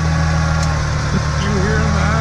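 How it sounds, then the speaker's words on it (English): A big Cummins diesel truck engine with a warped manifold idles after a cold start, a steady, loud, close low rumble with a faint ticking edge, while people talk over it. "Big engine cold start, warped manifold."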